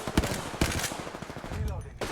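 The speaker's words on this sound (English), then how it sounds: "I am taking fire." Automatic weapon fire rattles in the Apex Legends battle royale game, with sharp rapid bursts separated by short gaps, loud and close.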